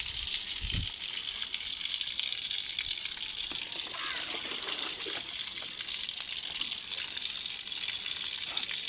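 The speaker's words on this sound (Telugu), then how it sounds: "ఎప్పుడైనా మనం మొక్కలకు నీళ్లు పోసేటప్పుడు చుట్టూ కూడా మట్టి తడిచేటట్టుగా పోసుకుంటే బాగుంటుందండి" Water is poured onto garden plants, wetting the soil around them, with a steady, close splashing rush that continues evenly throughout and no voices.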